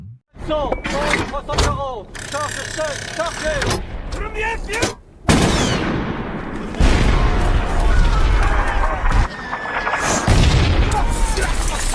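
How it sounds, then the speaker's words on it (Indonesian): Long-range artillery fired in a war film about French troops battling the Germans: heavy booms and blasts crowd the second half, following a stretch of narration over earlier battle sounds. "Kolonel Lee yang memantau dari belakang mulai memerintahkan pasukannya untuk menggunakan artileri jarak jauhnya untuk membalas serangan Jerman."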